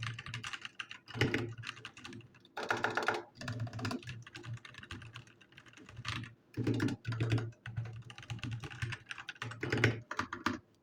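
Typing on a 60% mechanical keyboard with red switches, a rapid close patter of key clacks in uneven bursts and short pauses, fairly soft overall with no voices.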